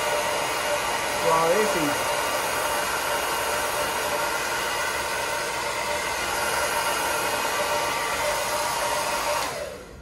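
A hair dryer roars steadily and close while it blows hair upward to style a hair prosthesis, and the whine cuts off at the very end. A voice speaks briefly near the start.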